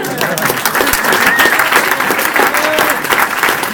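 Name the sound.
applause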